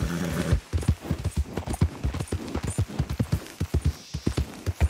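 Horse hooves clip-clop steadily at a walking pace in the open-world western game Red Dead Redemption 2, close and clear, with a rapid even rhythm of sharp hoof strikes and no talk over them.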